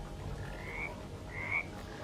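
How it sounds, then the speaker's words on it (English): A frog croaks twice, two distinct ringing calls under a second apart over a low steady background hum in a video game, with no talking. "I heard a frog."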